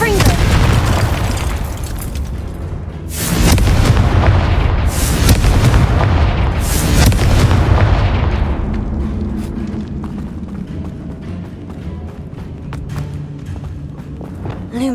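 Repeated fiery spell explosions from the Confringo curse in the Hogwarts Legacy video game, three loud booming bursts in quick succession over a rumbling battle backdrop that fades to quieter crackling and low tones.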